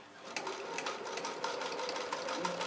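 A sewing machine stitching wig hair, running in a fast, steady mechanical rattle of needle strokes close to the microphone, with no talking.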